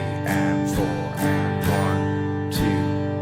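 Acoustic guitar strummed in a pattern of two downstrokes followed by quick eighth-note strokes, with four clear strum accents ringing out across a steady, moderately loud chord with no voices.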